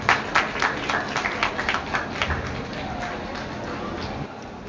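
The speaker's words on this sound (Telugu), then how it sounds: "గట్టిగా చప్పట్లు కొట్టి" Audience clapping, with several distinct claps early on that settle into a steady wash of applause, while a voice talks over it.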